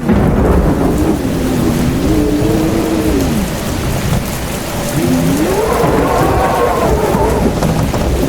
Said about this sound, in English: The storm had begun, breaking into their peaceful evening with fury.